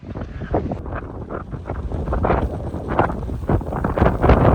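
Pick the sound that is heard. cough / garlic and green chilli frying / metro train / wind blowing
wind blowing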